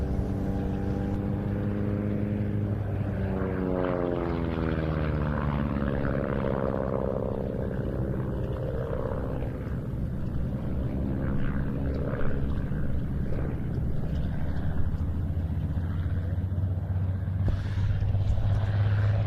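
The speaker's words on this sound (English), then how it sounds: "Rolling now, our first chance to see it in a display in its Royal Indian Air Force colours, the Supermarine Spitfire 14E." A Supermarine Spitfire 14E in Royal Indian Air Force colours drones steadily through a display roll at an air show, its piston engine rumbling loud and sustained, the pitch sliding as it passes and turns.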